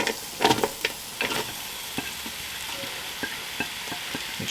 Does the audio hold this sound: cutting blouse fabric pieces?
no